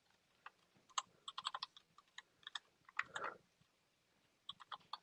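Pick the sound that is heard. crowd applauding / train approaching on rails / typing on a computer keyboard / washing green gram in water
typing on a computer keyboard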